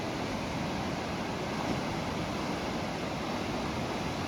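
Water rushes along a mountain roadside on a ride through Sikkim, a steady, dense roar with no pauses and no voices.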